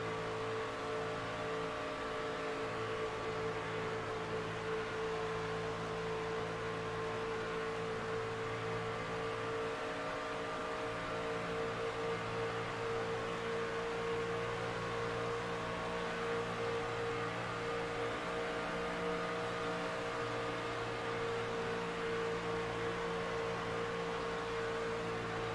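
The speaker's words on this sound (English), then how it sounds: "That is a nice engine you got there, Mr. Carpenter." Race car engine in a sim racing video game at Talladega superspeedway, a steady unbroken drone with a sustained tonal hum held at constant loudness throughout, with no talking.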